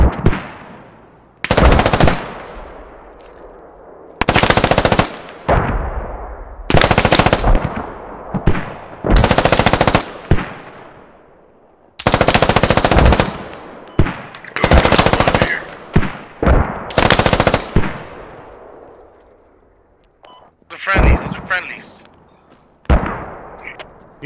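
Gunfire in the Squad military video game: repeated loud bursts of automatic fire in distinct volleys, with sharp single shots and quieter pops near the end, close and prominent.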